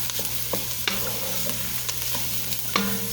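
Garlic sautés in a pan, a continuous close sizzle with occasional utensil clicks and scrapes, no voices.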